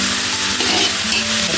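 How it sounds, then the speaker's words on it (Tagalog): Vegetables with fish sauce sautéing in a pan for shredded spring roll filling, a loud steady sizzle with stirring throughout, no voices. "Lagyan natin ng patis ang ating ginigisa para pati yung"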